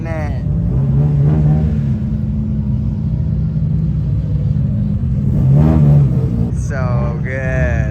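Lowered S15-type drift cars at Fuji Speedway, a loud close engine rumble that swells and revs twice with a rising whine near the end, heavy and continuous, no voices.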